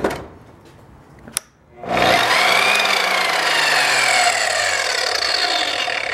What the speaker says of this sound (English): But when the motor starts, it kind of starts slow.